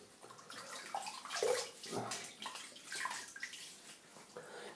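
A man splashes water onto his face before shaving, close wet splashing and sloshing in uneven bursts, as hands scoop and rub water, with no talking.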